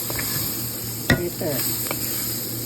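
Chicken pieces frying in their own rendered fat, a steady close sizzle with one sharp clack of a utensil against the pan and faint stirring.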